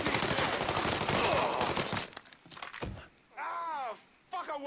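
Dense, rapid gunfire from the Mafia 3 video game crackles loudly for about two seconds, then breaks off into scattered, fainter shots while people talk excitedly over it.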